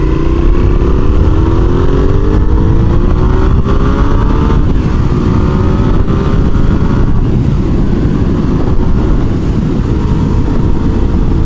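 A Suzuki SV650N motorcycle with an 80-horsepower engine accelerating hard, loud and close, with rising engine pitch sweeping upward through gear changes over heavy wind roar.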